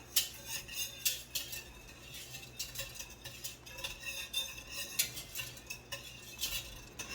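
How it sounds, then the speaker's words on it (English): A metal whisk beats yogurt in a bowl with fast, rhythmic clinking and scraping strokes, close by and fairly quiet, with no talking. "I just take my whisk and I just whisk that up really, really good"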